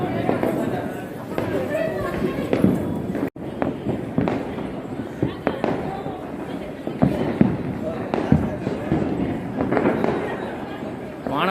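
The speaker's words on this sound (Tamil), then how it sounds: "வான வேடிக்கைகளை விட்டுட்டுருக்காங்க." Fireworks bursting repeatedly at a temple festival in Palani, a steady stream of crackling pops and bangs filling the scene while people talk nearby.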